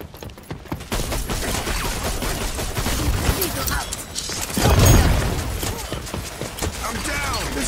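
Shotgun blasts in the team shooter video game Rogue Company, heavy shots and mechanical clatter repeating amid constant match noise, with a player talking over the action.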